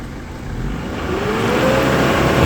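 Mitsubishi Pajero engine revving up toward 4,000 RPM after manifold and EGR cleaning, a loud, close roar that climbs steadily in pitch and volume over a couple of seconds, no talking.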